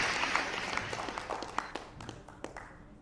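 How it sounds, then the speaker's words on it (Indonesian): Audience applause at a regional FPPI deliberative meeting in Jakarta, a moderate round of clapping from a seated crowd with distinct individual claps standing out, fairly close and steady for about three seconds, with faint voices underneath. "tepuk tangan Bu"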